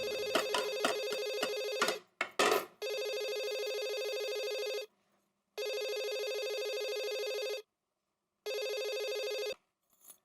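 A telephone rings in repeated electronic bursts, starting with choppy rings, then long steady tones separated by brief silences, loud and close.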